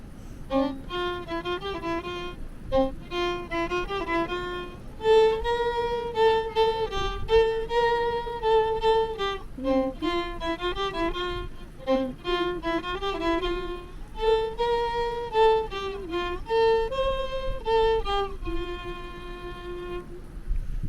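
A children's song plays alone as a melodic tune, notes moving up and down in a bouncy, song-like phrase at moderate volume with no voices.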